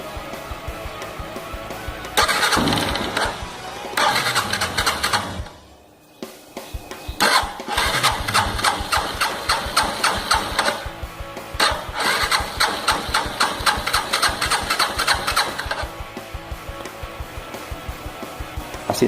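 A motorcycle engine is cranked and started repeatedly with the cylinder head cover off while a noise fault is checked, giving loud bursts of rapid mechanical clatter separated by short pauses.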